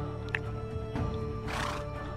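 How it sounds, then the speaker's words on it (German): A stallion in the medieval life-sim game Medieval Dynasty gives a brief, fairly quiet whinny over a steady ambient game background, with a faint snort and soft hoof sounds. "Ja, ist ein hübscher Hengst"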